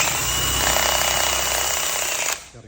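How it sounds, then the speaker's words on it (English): An electric drill spins nylon cord to twist a new bullwhip cracker, a loud, steady high-pitched motor whine that holds evenly for about two seconds before cutting off abruptly, close to the microphone with no talking. "I got the other one to my drill. And all I'm gonna do is kind of step back just a little bit and spin it to the right."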